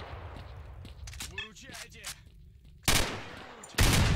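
Automatic weapons fire in the shooter game S.T.A.L.K.E.R.: Shadow of Chernobyl, with scattered shots early on, then two loud, dense sustained bursts near the end and a voice speaking in between.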